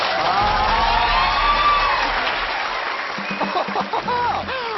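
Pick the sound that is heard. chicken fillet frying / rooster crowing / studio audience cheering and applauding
studio audience cheering and applauding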